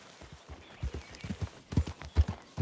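A horse's hooves clip-clop at a steady walking pace in the Western video game Red Dead Redemption 2, soft and close, getting heavier toward the end.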